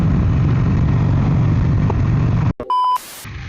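A Buell S1 or X1 Lightning motorcycle engine rumbles loud and steady with a deep low throb, then cuts off abruptly near the end, followed by a few electronic beeps and a quieter background.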